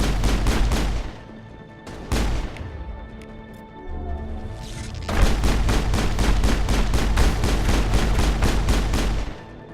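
Gunfire in Mass Effect, loud rapid automatic bursts of evenly spaced shots near the listener, with a short pause that suggests the weapon overheating before a long sustained stream of fire.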